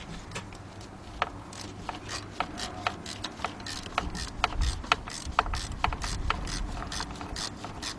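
Ratchet clicking while tightening spark plugs into the aluminum heads of a 2004 Ford Expedition with the 4.6 engine: a steady series of close, sharp pawl clicks in an even rhythm with a few louder strokes.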